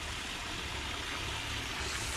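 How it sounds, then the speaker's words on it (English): Steady rushing water from a small waterfall feeding a koi pond on a mini golf course, a constant broadband splash at moderate level with no break across the short span. "You might just sit and think, look at that waterfall."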